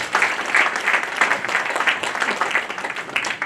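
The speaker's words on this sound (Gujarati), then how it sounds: "તો બંને માટે એકવાર જોરદાર તાળીઓ થઈ જાય" A seminar audience at a skin-health session bursts into sustained applause, many hands clapping densely and fairly loudly throughout with no break.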